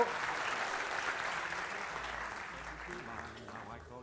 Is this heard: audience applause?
yes